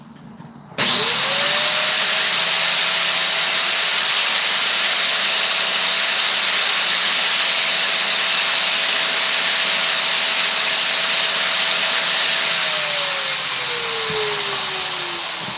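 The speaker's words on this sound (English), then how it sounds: "So you just take your rod out and sharpen your rod real quick" A power grinder sharpens a welding rod tip: the motor spins up abruptly and holds a steady loud whine with a grinding hiss for about twelve seconds, then winds down slowly near the end.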